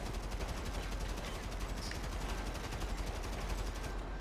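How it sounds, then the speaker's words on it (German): Rapid automatic gunfire in GTA 5 Online, a dense unbroken stream of fast, evenly spaced shots held at steady loudness for several seconds, close and harsh with no talking. "So, ich schieße mal ein bisschen das Zeug raus."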